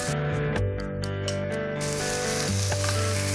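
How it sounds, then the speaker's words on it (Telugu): Half a cup of small chopped onions frying in hot oil over a tempering of spices, a steady close sizzle and hiss throughout, with sustained musical tones underneath. "సో చిన్న చిన్న పీసెస్గా కట్ చేసుకున్న ఆనియన్స్ ఒక 1/2 కప్ వేసుకున్నాము. సో అవి కలర్ చేంజ్ అయ్యేంత వరకు వేయించుకోవాలి"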